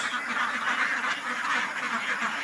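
A flock of ducks kept for egg laying quacks continuously and close by in a dense, overlapping chorus, with no talk.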